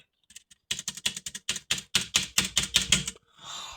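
Rapid keystrokes clatter on a nearby computer keyboard in a quick irregular burst, each click distinct and loud, followed by a brief soft rustle at the end.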